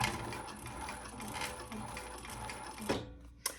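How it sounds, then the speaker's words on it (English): Domestic sewing machine stitching through a thick tote bag with the presser foot raised, a steady close whirring run of rapid stitches that stops near the end, followed by a couple of sharp mechanical clicks. "let's just do a couple more stitches here"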